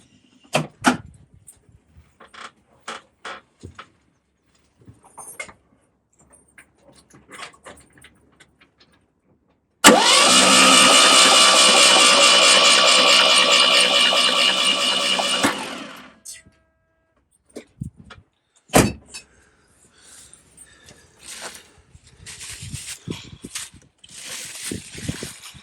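A rusty Polish Fiat 126 engine cranked by its starter for about six seconds, a loud steady whirring drone that fails to catch, framed by scattered clicks, knocks and handling noises before and after.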